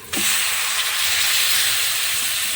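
Washed flattened rice lands on vegetables in a hot pan, bursting into a loud, continuous hissing sizzle close by that holds steady throughout.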